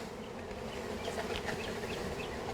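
A mass of honeybees from a three-pound package is shaken down into a hive, giving a steady, dense, close buzzing drone that holds without any talk.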